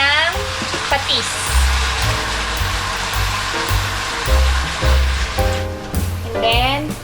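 Steady loud sizzling and hissing of chicken frying in a pot, with talking over it and clattering stirring noises.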